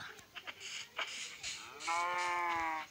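A cow lets out a single long, loud moo near the end, preceded by a few soft knocks and rustles, with no speech over it.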